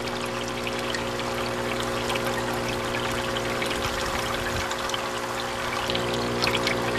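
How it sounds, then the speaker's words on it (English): Aquaponics siphon near the end of its cycle, water gurgling and slurping in the top of a grow bed, a steady close pouring trickle over a constant pump hum with no talk. "As the siphon nears the end of its cycle, you'll hear it start to slurp in the top of the grow bed."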